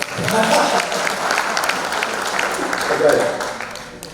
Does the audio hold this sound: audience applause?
yes